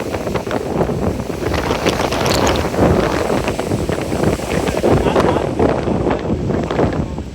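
Strong gusts of wind roar and buffet the microphone near the top of Kondarangi hill, a loud, continuous rumbling rush with surging peaks throughout.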